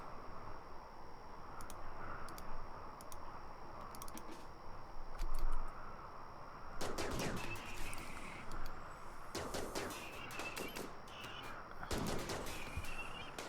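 Game gunfire from a pulse rifle in Rimworld, a colony survival game set on an ice sheet: bursts of rapid shots break out midway and repeat in clusters toward the end over steady background keyboard typing.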